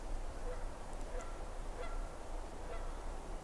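A goose honks repeatedly at a distance outdoors by a river, the calls faint and spaced over a steady background hiss with no talking.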